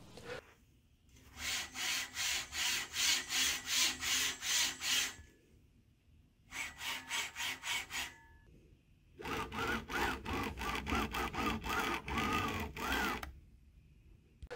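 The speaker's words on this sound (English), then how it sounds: "You may encounter chatter noise every time your X-axis is moving." Bambu Lab A1 3D printer X-axis linear rail making a rapid buzzing chatter in three bursts as the head moves, close and fairly loud with short quiet gaps between.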